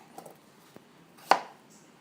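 Knife chopping through pumpkin on a cutting board: a few light taps early, then one sharp, close, loud chop about two-thirds through, fading quickly in a quiet kitchen.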